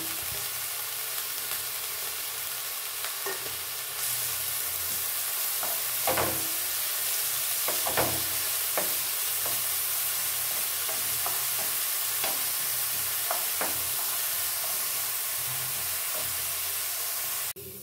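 Soaked, drained dal being fried and stirred in a pan for lau halwa, a constant close hiss of hot oil with repeated scraping strokes of a spatula at irregular intervals, sustained and without talk.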